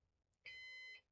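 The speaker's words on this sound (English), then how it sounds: "I still don't understand the heart monitor sound that this thing is making" A NAS storage device gives a single short electronic beep like a heart monitor tone, a steady pitched half-second note heard faintly in a quiet room.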